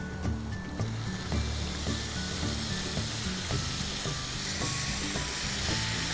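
Spices and grated tomatoes sizzle in a pan for palak paneer, a dense, close, hissing fry with faint stirring clinks running steadily throughout.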